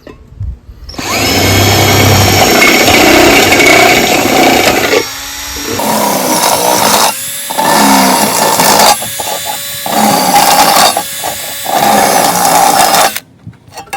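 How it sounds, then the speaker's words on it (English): Power drill with a step bit boring half-inch holes in sheet metal for a hobo stove, loud grinding whine in several bursts separated by short pauses, up close with no talk. "Let's make 1/2 inch holes for the legs and for the drainage hole with this step bit."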